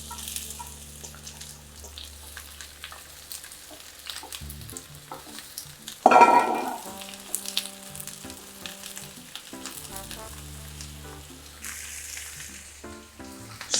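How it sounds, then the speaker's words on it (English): Onions and mushrooms fry in a pan, with a soft crackling sizzle, then a sudden louder burst of hissing as more goes in, followed by intermittent stirring and scraping sounds nearby. "I'm just gonna fry me onions and me mushrooms next"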